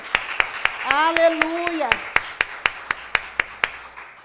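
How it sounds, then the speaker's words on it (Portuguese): Steady rhythmic clapping from a church congregation beats at an even pace while a voice shouts an exclamation over the first claps. "Dê um aplausos para o Senhor, que Ele merece"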